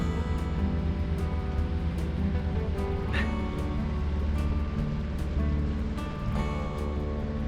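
Boat motoring along a river under engine power with no sail up: a steady, close, low mechanical drone with constant harmonics fills the whole stretch, with a few faint clicks and splashes on top.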